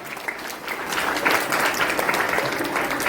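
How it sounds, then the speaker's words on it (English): A school audience at a Teachers Day celebration claps for a student's speech, a dense, even round of applause that swells slightly and holds for a few seconds. "So give a big applause to Angita."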